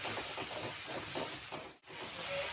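Palm fruit pulp, cashew, ginger and green chilli paste hit frying spices in a pan, producing a steady close hiss and sizzle that cuts out briefly near the end and then resumes, with no talking.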